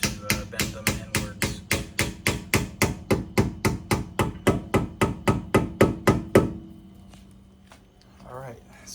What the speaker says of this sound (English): take your rubber mallet, which is all you really need